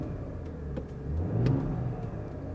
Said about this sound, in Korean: 아주 경쾌하게 시동이 걸렸는데요.